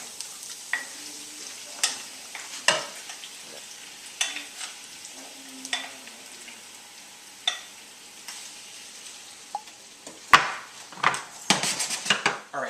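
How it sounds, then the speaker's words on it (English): Shrimp sautéing with garlic in a pan, a soft steady sizzle broken by repeated sharp clinks and scrapes of a utensil against the pan, louder clattering bursts near the end. "And in go the shrimp."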